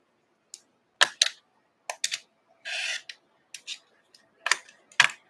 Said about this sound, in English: Maybe I just like the sound a fresh blade makes.